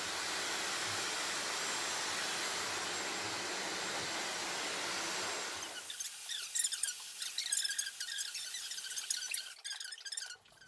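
A Dyson Supersonic hair dryer blasts steadily at close range while drying hair, a loud continuous whooshing roar for several seconds that cuts off, leaving softer handling and rustling noises afterward.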